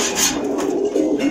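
Pigeons at a pigeon seller's place in Meradia, Dhaka, giving low throaty coos close by, a short run of soft rolling calls.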